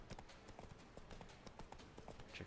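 Roach the horse trots in The Witcher 3, a steady rapid clip-clop of hooves at moderate distance with faint background ambience.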